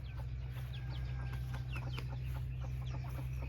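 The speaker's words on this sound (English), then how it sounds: "let's look at the fighting chickens first" Fighting chickens on an Isaan farm clucking in short, repeated bursts over a constant low background hum, moderately close and fairly quiet, with no one talking.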